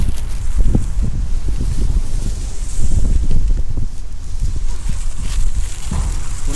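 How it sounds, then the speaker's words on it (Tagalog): Strong wind roars steadily against the microphone, with low rumbling gusts and buffeting throughout, no voices. "Lakas ng hangin talaga, grabe ang lakas ng hangin"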